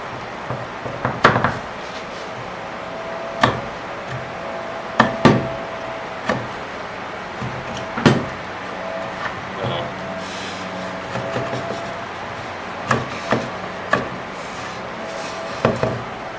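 A hand saw cuts wood for a sawhorse with scattered sharp knocking strokes over a steady background hum, moderately close.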